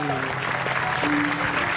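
Studio audience on an Indonesian TV comedy talk show claps in a dense, steady burst of applause, moderately loud and continuous with faint voices mixed in.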